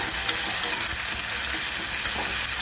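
Onion frying in a pan for a mixed bombil, cauliflower and potato vegetable dish, giving a steady, close, loud sizzle with bright hiss throughout and no talking.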